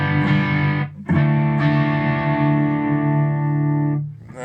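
Electric guitar on the bridge pickup through a Kemper profile of a Marshall Super Lead amp, dry with no reverb: loud distorted chords ringing out, a brief gap near the start, then a long sustained chord with a new strum before fading.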